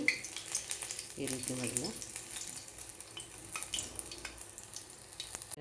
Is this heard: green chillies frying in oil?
yes